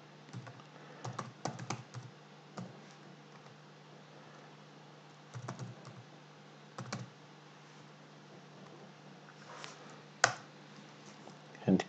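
Fingers type on a computer keyboard while working in a terminal, giving quick bursts of crisp key clicks separated by pauses. A quiet steady hum sits underneath.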